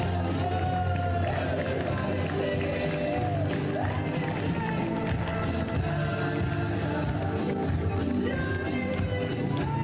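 A crowd at a French Jeu Provençal triples championship in Pierrefeu applauds its volunteers, with sustained clapping mixed with cheers, whoops and shouts that carry loudly and steadily throughout.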